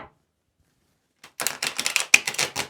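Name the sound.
riffle shuffling Fairytale Tarot cards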